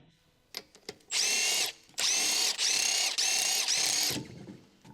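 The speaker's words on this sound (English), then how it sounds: "Now use a large 19mm long socket with a power impact wrench to remove the wheel bolts." Power impact wrench with a large 19mm long socket spinning off wheel bolts on a lifted Honda, several loud hammering bursts in quick succession after a few short clicks, close and alone.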